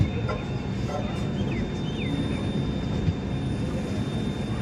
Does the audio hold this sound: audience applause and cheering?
no